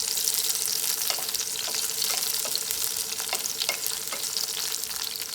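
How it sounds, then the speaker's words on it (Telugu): Green chillies sizzle steadily in hot oil in a pan, a loud continuous hiss broken by occasional scrapes and clinks of stirring. "ఈ పచ్చిమిర్చి ముందుగా మంచిగా ఫ్రై చేసి పక్క పెట్టుకుందాం"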